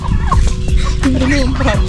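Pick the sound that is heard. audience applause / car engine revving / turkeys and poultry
turkeys and poultry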